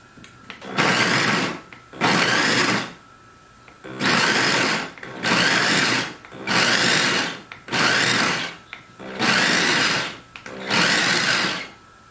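Food processor pulsing lime juice, salt and mango salsa ingredients until coarsely chopped, eight loud whirring bursts of about a second each separated by short pauses, close and steady in rhythm.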